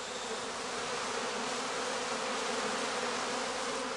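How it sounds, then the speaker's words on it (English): Honeybees shaken out of a straw skep hive at a German apiary form a dense, steady buzzing swarm, close and continuous with no voices. "he shakes the rest of the bees out of the skep"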